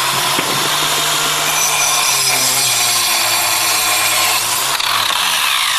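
A Kaindle blade on an angle grinder cuts through a steel Hilti bolt, making a loud, continuous, harsh abrasive grinding whine with shifting pitch that stays steady for several seconds.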